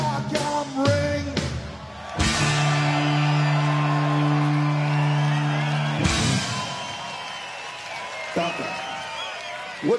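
A festival crowd at Rock am Ring 2006 cheers and yells in loud waves, with a sustained tonal drone and someone speaking over the noise at times.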